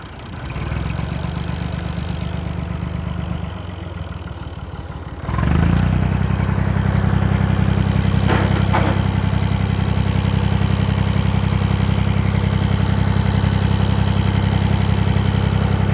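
A Fiat 480 tractor engine chugs steadily and loudly, its pitch and load shifting partway through as it strains while slowly lifting, then runs on with a heavy rumbling idle.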